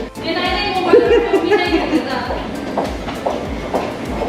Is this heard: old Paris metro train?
yes